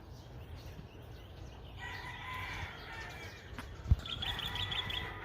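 Chickens on a farm, with a faint crow and a few clucks coming in partway through over steady outdoor background noise.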